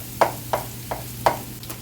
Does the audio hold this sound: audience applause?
no